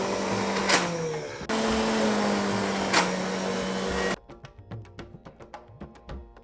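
Mixer grinder churning hunasekayi (tamarind) thokku paste, a loud droning motor that dips once and stops at about four seconds, followed by quieter clicks and knocks.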